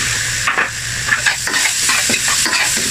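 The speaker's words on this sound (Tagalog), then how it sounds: "lutuin natin itong liver" Chicken liver sizzles in a hot pan for adobo while a utensil stirs and scrapes, the frying hiss steady and close with clacks of the spoon repeating every half second or so.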